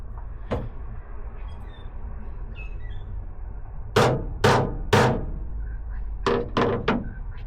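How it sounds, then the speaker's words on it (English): A hammer knocks leftover rivet caps out of an aluminium boat deck: one early thunk, then a cluster of three sharp metallic knocks and a later quick run of four, over a quiet background. "They should just hit through with a hammer."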